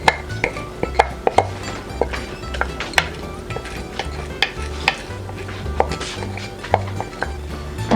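Glutinous rice goes into coconut milk in a cooking pot for bibingka, with close, irregular clinks and scrapes of a utensil against the pot and soft stirring sounds across several seconds.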